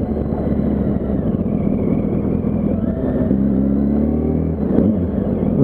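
A Yamaha R1 sport motorcycle rides through Los Angeles streets on a worn rear tire, its engine droning loud and steady with a throaty low rumble and rising harmonic sweeps as it revs and shifts, plus a brief surge near the end.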